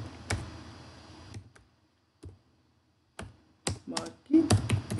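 Typing on a computer keyboard, a few scattered clusters of close key clicks separated by silent pauses, growing busier toward the end.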